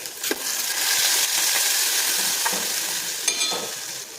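Ginger paste, asafoetida and turmeric are stirred in a hot frying pan for an okra-potato curry, giving a steady close sizzle broken by a few scraping stirs, with no talk.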